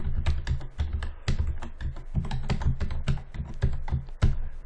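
Fast typing on a computer keyboard while entering text for a PyQt button, a dense, uneven run of close, crisp key clicks and taps with no pauses longer than a moment.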